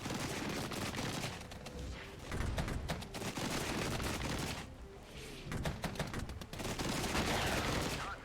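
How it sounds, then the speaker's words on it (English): Dense, continuous battlefield gunfire and booming artillery from the video game Regiments, steady and loud throughout with bursts of rapid shots layered over low rumbling blasts. "I'm going to leave these infantry to hold Kilo and just keep hitting them with artillery"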